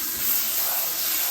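Cold tap water runs in a steady, loud hissing stream into a bowl of rice being rinsed, close by and unbroken, with no talk over it.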